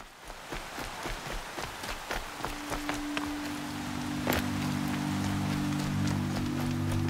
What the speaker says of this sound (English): The rain is going away now.